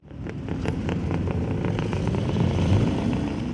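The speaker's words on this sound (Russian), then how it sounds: "На дороге слышен рев моторов" Motorcycle engines roar in a steady, loud rumble with low throaty growl, like several motorcycles riding together in a column on a city road.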